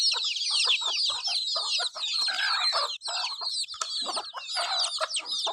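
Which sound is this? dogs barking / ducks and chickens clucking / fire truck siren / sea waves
ducks and chickens clucking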